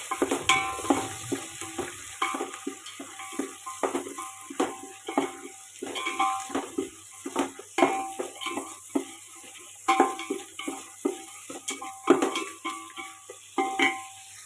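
Vegetables, peas and herbs are stirred in a pan for coconut milk rice, with repeated scraping strokes of a spoon in an uneven rhythm over a faint sizzle, close up and with no talking.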